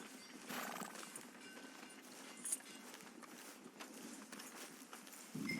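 Horse hooves clip-clop steadily in Red Dead Redemption 2, a faint, even walking rhythm with occasional snorts and a soft whinny, over a quiet street ambience.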